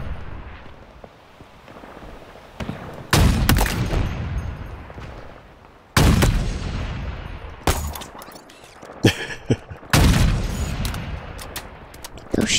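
Game gunfire in Halo sounds as loud sharp cracks with booming tails, several spaced shots and bursts across the stretch, separated by quieter ambient gaps.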